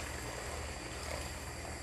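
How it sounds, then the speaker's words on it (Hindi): A glass of water poured into green beans cooking in a pot for a beans-and-egg dish, giving a steady, even rushing splash that lasts throughout with no voices. "अब हम इस स्टेज पर तकरीबन 1 गिलास पानी इसमें ऐड करेंगे।"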